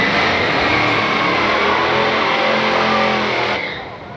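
A 1970 Buick Skylark 350 with a Turbo 350 transmission and a 1963 Studebaker Avanti drag racing, a loud, steady engine roar at full throttle that fades as the cars pull away.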